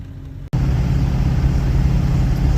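A Hemi pickup truck hauling a 5th wheel RV drives down the road, giving a loud, steady low rumble of engine and road noise that starts abruptly after a brief cut.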